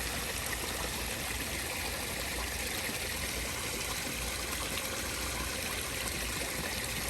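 Water runs steadily into a koi pond during a water change, a continuous rushing, trickling stream at constant volume, with no voices.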